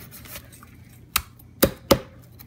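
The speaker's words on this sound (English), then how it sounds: "we're just gonna cut away at this, and we might have to actually hit it hard to make a really good steak" A knife cuts through dry-aged steak and chops hard against a board three times in quick succession, each a sharp, close thud, after some quieter cutting sounds.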